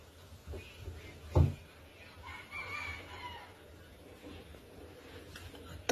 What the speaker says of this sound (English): if it wasn't for that goddamn chicken